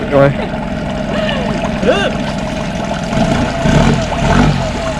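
A roughly twenty-year-old sailboat engine runs at a steady low drone throughout, with water and wind noise around it and people talking and cheering over it.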